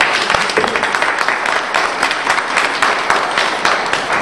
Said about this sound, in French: je souhaiterais qu'on puisse les applaudir, parce que franchement, ils le méritent